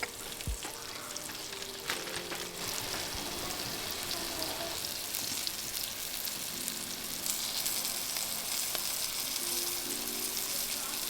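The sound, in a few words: thin chicken cutlets frying in a pan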